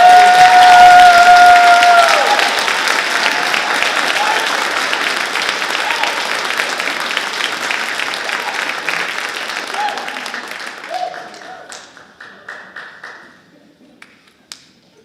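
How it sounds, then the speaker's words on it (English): An audience at a school band concert applauds steadily for several seconds, loud and dense at first. The clapping thins and fades out toward the end. "How about a round of applause for these candidates?"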